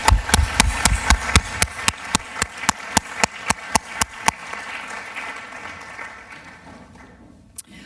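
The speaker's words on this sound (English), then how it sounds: "let's give a round of applause for these great two young ladies" Audience applause at a youth awards ceremony for two young award recipients, starting with loud rhythmic unison clapping of about twenty beats that fades into scattered clapping and dies away.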